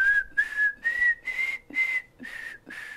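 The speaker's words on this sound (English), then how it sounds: "Can you whistle it back to me?" A lone whistled melody from a video game, the opening phrase of Mozart's Eine kleine Nachtmusik, played as a series of about seven clear, sustained tones in a steady rhythm with brief gaps between them.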